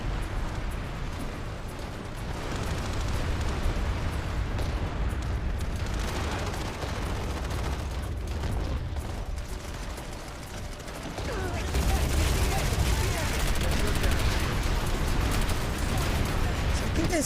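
Dense, continuous submachine gun fire in the sci-fi shooter PlanetSide, rapid bursts layered over loud battlefield noise and distant explosions, swelling louder and fuller for the final few seconds.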